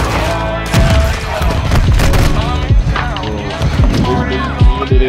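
Gunfire in Modern Warfare 2 rattles continuously in loud, rapid bursts with repeated sharp shots layered over busy game sound throughout.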